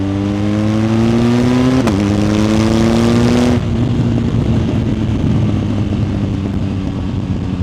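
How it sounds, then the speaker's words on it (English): A loud BMW GS motorcycle with an Akrapovic exhaust revs up through rising tones, shifts gear with a sharp crack, then drops to a throaty, rumbling cruise. "the sound of this bike, particularly with this Acra exhaust, sounds way better than the newer ones"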